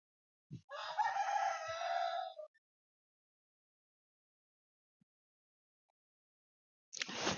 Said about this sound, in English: This neighboring cockerel, he's like the boss cockerel from all around the place